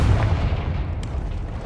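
A Confringo explosive spell cast in Hogwarts Legacy on PC, a single low, dull boom that rumbles briefly and fades, close and fairly loud with no talking.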